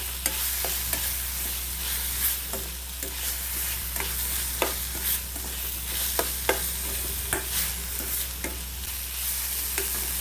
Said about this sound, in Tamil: இது ரெண்டுத்தையும் நல்லா பொடி பொடியாக நறுக்கி அதையும் சேர்த்து நல்லா வதக்கிக்கலாம்.